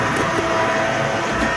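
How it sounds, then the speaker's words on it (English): Model trams run on a model railway layout, giving a steady, continuous rolling hum and rattle throughout, close and even in level. "And the trams are running everywhere at the moment."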